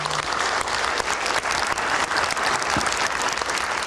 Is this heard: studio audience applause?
yes